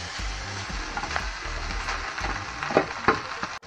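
Cooked rice is added to a frying pan with turmeric for lemon rice, producing loud, close sizzling and frying with soft thuds and stirring scrapes throughout, no talking.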